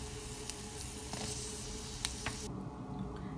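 Garlic and tamarind sautéing in a pan for a spicy garlic chutney, giving a steady, close sizzle with a few faint clicks and no voices.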